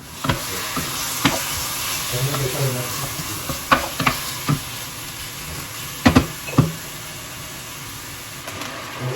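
Chicken curry stirred in a pan, a steady sizzle running underneath while the spoon scrapes and knocks against the metal in several sharp, close clacks spread unevenly through the stretch.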